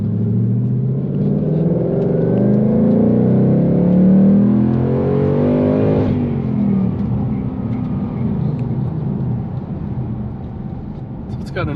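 Ford Mustang GT V8 heard from inside the cabin as it accelerates, a loud deep exhaust drone rising in pitch through the gears, then settling into a steady rumble.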